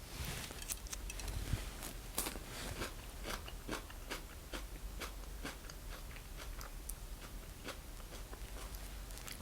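Crisp, crunchy bites into a thick-walled sweet pepper repeat steadily up close, a wet crackle with each bite and no talking.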